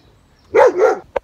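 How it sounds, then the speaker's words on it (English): Inside a French bakery, a dog gives two quick, loud barks close by, followed by a brief sharp yip, with otherwise quiet surroundings. "There's a dog."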